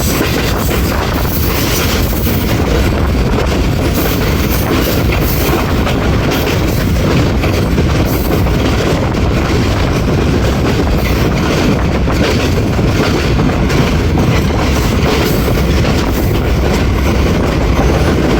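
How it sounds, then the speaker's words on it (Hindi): The 14 DN Awam Express passes through Sanjwal railway station, a loud, dense rumble of wheels and carriages that stays close and unbroken throughout. "संजवाल रेलवे स्टेशन से पास थ्रू हो रही है 14 टाउन अवाम एक्सप्रेस"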